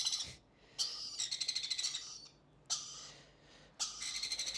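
Young pet lories and sun conures screech in repeated close, rasping bursts with a fast pulsing texture, four loud calls broken by brief silences.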